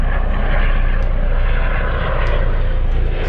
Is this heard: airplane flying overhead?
yes